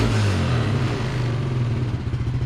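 A 1998 Arctic Cat 300 4x4 ATV engine runs steadily close by, with a slight exhaust leak adding a rough, chuffing, low mechanical rumble that holds even throughout.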